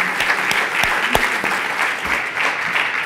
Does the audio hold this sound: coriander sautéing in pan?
no